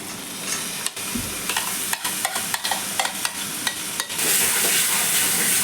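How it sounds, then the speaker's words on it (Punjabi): Soya chunks stirred into thick masala in a pan, with a quick run of sharp spoon scrapes and clinks against the metal over a continuous sizzle that swells louder near the end, close and fairly loud. "ਚੰਗੀ ਤਰ੍ਹਾਂ ਹਿਲਾਵਾਂਗੇ ਜੀ"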